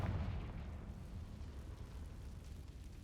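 A Confringo fire-blast spell in Hogwarts Legacy lands as a muffled boom that quickly fades into a low, rumbling tail, faint overall and with no voices.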